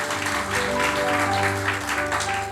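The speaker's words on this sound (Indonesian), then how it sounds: "Tepuk tangan bagi Allah" A church congregation at a Sunday worship service applauds with a dense, sustained wash of clapping over a steady held keyboard chord, continuous and fairly loud throughout.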